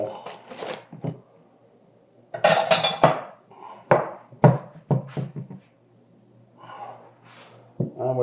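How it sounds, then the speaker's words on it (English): Eggs are cracked into a bowl in a home kitchen, giving a few sharp shell taps and wet splats among clattering dishes, close up, with someone breathing and moving nearby. "And we're just going to crack these eggs here."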